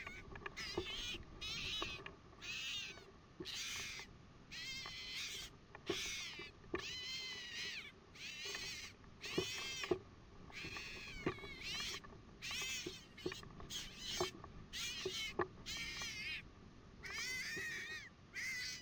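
An electronic fox caller on a farm plays a vixen-in-heat call, a series of loud, harsh, wavering screams repeated in quick bursts, each separated by brief pauses, over faint outdoor background.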